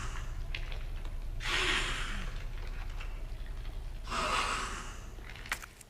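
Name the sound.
licker creature noise in Resident Evil 2 Remake video game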